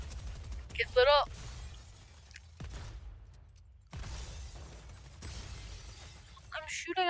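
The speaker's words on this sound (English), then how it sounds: "I'm shooting out all the glass" Glass shattering under gunfire in Fortnite, on a resort-themed gun game map, with two sharp crashes of breaking panes separated by several seconds amid quieter mechanical clatter and background game noise.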